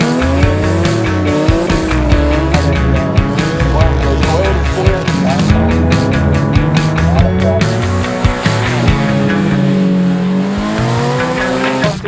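SCCA rallycross cars racing on a course, engines revving hard and shifting through gears up close and loud, with tires squealing and skidding in a continuous run.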